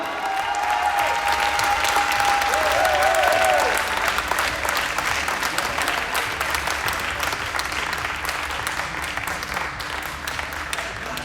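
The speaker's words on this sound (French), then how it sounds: "On fait un tonnerre d'applaudissements pour Julien Grondin." A crowd claps for a player at a table tennis tournament prize ceremony, with steady applause that holds at a moderate level and a brief whistle-like tone early on.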